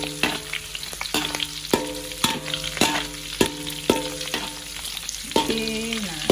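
Pre-boiled squid fries in hot oil with a loud, continuous sizzle, punctuated by repeated sharp clacks of stirring about every half second, with no talking.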